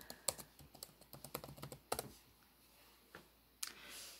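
Someone types with one hand on a computer keyboard, producing quiet, uneven key clicks in a short run, then a few scattered taps after a pause.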